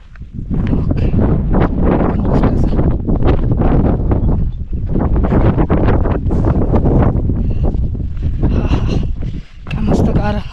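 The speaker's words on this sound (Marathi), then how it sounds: "काय मस्त गार हवा सुटली एकदम." Cool wind gusts steadily across a mountain trek on the Rajgad to Torna ridge in the Sinhgad range, buffeting the microphone in loud continuous roaring bursts while someone talks over it.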